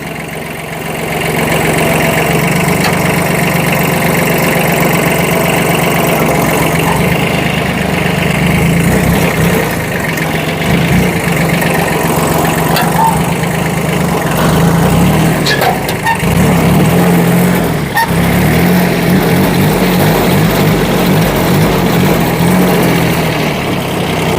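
A Kubota B1502 compact tractor, an older imported unit fitted with a rotary tiller, idles steadily and loudly at close range for the whole stretch, with a constant low diesel rumble and no speech.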